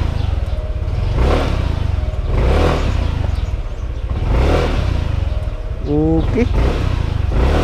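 Yamaha NMAX V1 scooter engine revving after a fuel filter replacement: loud repeated throttle blips swelling and falling about every one and a half seconds over a steady idle, with a short spoken word near the end.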